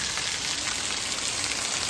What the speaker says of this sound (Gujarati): અત્યારે છે ને ભાઈ વરસાદ ચાલુ છે